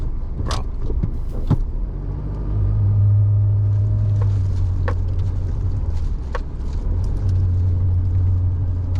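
A car in high four-wheel drive crawls along a very rough road, with a loud continuous rumble of engine and tyres, a low drone that swells midway, and occasional knocks and rattles from the cabin.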